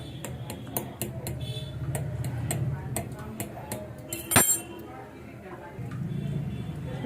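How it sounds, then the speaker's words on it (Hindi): A spoon pokes holes in rolled-out homemade desi-style pizza dough, giving a string of light, irregular clicks and taps with one brighter clink, heard under someone talking. "अब हम इसके अंदर चम्मच से इस तरीके से छेद कर देते हैं।"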